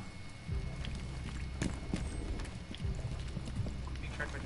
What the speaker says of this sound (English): You're fucking stomping around above me.